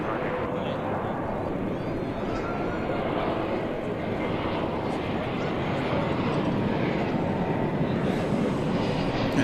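A jet aircraft taxis across runway 18 left at DFW airport toward the hangar area, producing a continuous, broad engine rumble at moderate distance, steady and unbroken.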